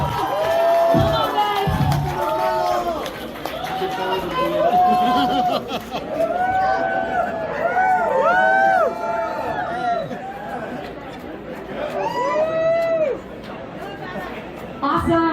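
A concert crowd at the Whisky in Los Angeles chants for an encore after the band's set, loud rhythmic shouting and cheering from many voices close around, with scattered whoops rising and falling throughout.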